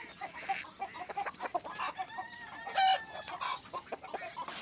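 Hens cluck and murmur in short, scattered bursts, fairly quiet and close, with a brief higher squawk partway through.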